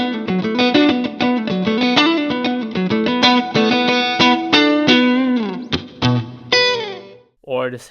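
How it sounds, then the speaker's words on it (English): An electric guitar plays a quick run of plucked notes through a Universal Audio Max pedal set to heavy stacked compression, even and sustained, loud and close with a slightly distorted, chorused edge, ending in a few sparse notes. "or this heavy compression stacked"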